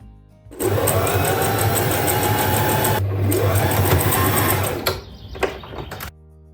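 A sewing machine runs steadily stitching a seam in muslin fabric, a continuous loud motor hum with rapid needle rhythm, pausing briefly midway, then stopping near the end with a few handling clicks.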